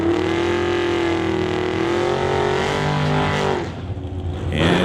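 The El Gringo Chevy II drag car's engine drones loud and close in the pits, holding a steady pitch, then dropping off and rising again near the end, with no talking.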